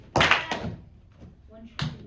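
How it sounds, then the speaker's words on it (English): Students in a classroom give a single collective clap, a few loud, close, thudding claps landing almost together, then a brief voice and one more clap at the end. "Clap once if you can hear me"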